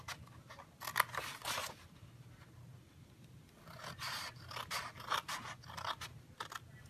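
Scissors cutting craft material for a bag, a few close snipping and scraping strokes in short bursts separated by quiet pauses, faint and without talk.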